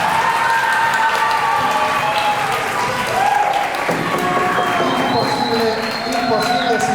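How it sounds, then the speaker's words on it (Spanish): An audience claps for a birthday during a mock jury trial event at a school institute. The applause is steady and close for several seconds, with voices calling out over it. "un aplauso para Vivi en el día de su cumpleaños"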